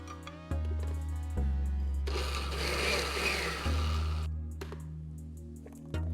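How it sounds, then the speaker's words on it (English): A food processor whirs loudly while blending a tomato soup mixture with roux, its motor starting, surging into a dense churning roar mid-way, then dropping back to a steady hum before stopping. "putting it in the processor and mix everything together"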